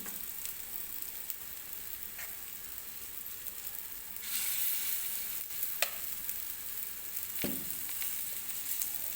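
Quiet, steady sizzling of semolina appe batter frying in a hot appe pan, with a few faint clinks and ticks of utensils.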